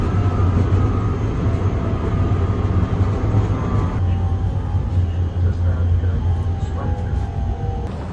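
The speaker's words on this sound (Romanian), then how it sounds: "Suntem în tramvai." Inside a moving tram in Prague, a continuous loud low rumble and rolling rattle of the car on its rails fills the space, steady throughout with some creaks and squeals, and a voice talks faintly over it.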